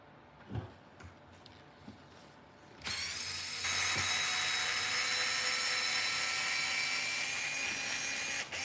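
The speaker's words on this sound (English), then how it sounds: "So we're going to unscrew the wing mount." Wing mount screws being unscrewed during a repair, with a few light clicks followed by a loud, steady whirring drive that runs for several seconds without talk.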